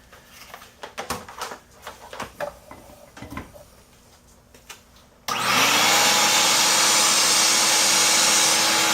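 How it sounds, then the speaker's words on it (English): A vacuum source switches on partway through for testing a Holley Street Avenger carburetor, after some scattered clicks and handling knocks; it then roars loudly and steadily with a constant whining drone to the end. "I'm going to turn the vacuum on."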